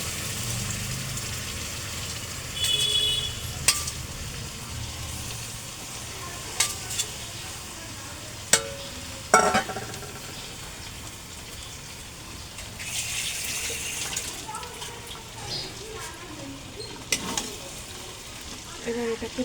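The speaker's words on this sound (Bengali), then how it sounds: "এবার মাখা চিকেনটা আস্তে আস্তে এর মধ্যে অ্যাড করে দেবো" Marinated chicken sizzles and fries in cooked onion masala for Mughlai chicken, a steady close hiss broken by sharp clinks and scrapes of a spoon stirring, with little talk.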